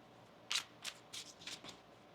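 A tarot card deck being shuffled, several quick, faint riffling bursts of cards close by in a quiet room.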